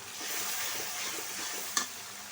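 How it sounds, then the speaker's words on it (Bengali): Ginger paste fries in a pan for chicken curry, a steady broadband sizzle with stirring scrapes throughout and one sharp clink of a utensil near the end. "আদা বাটাটা একটু বাইজে নিলাম যাতে কাঁচা কাঁচা গন্ধটা না থাকে"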